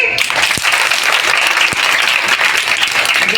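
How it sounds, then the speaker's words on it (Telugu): An audience at a police station event claps steadily and loudly for a few seconds, a dense burst of applause with no voices. "క్లాప్స్ కొట్టండి"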